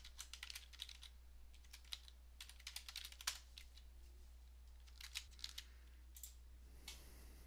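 Rapid clicks of a computer keyboard as an email address is typed, quick irregular bursts of keystrokes with brief pauses, close and soft over a low steady hum.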